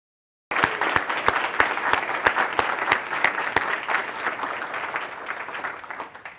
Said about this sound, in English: And I'm going to ask all of you to join me in a round of applause for Harvey for his gift.